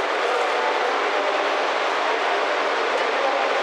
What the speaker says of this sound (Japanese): もう次の列車来てますね、僕の乗る列車。